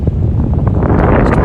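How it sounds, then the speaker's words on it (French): Strong wind buffets the microphone outdoors in a constant loud, low rumbling roar with gusty fluctuations and no voices. "Et il y a grave du vent."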